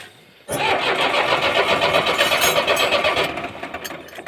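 A tractor's diesel engine, suffering a diesel fuel problem, cranks and catches abruptly, then runs with a loud, rough, rattling clatter before the revs sag and falter toward the end.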